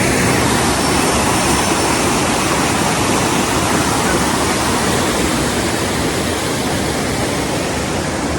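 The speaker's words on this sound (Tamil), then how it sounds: "இதில் தண்ணி ஓடுறது" Loud, continuous rushing water, a dense broadband roar like a strong flow or small waterfall, steady and close for the whole stretch.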